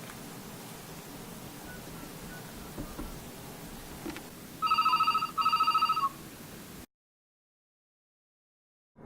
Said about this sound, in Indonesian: ada telepon dari Pak Rudi, Pak